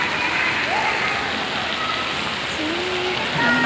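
Water pours down from a giant umbrella fountain at a resort pool, a dense continuous splashing rush like heavy rain, loud and close, holding steady throughout.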